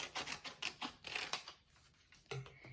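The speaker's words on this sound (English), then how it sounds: "So you have to cut that off using your scissors." Scissors cut through folded paper in a run of quick crisp snips, close and fairly quiet, pausing briefly before one last cut.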